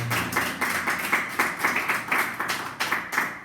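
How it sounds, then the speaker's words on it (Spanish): An audience claps for a prize winner at a talk, a brief steady round of applause with evenly repeated hand claps filling the room, no voices over it. "un aplauso para él"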